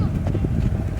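Small, friendly riding horses in Fiji clip-clop along in a quick, uneven rhythm close by, with people talking over the hoofbeats.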